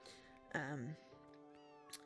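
A cat in the video game Cozy Grove gives one close, wavering meow of under half a second, set against soft sustained musical tones from the game, with quiet surroundings before and after.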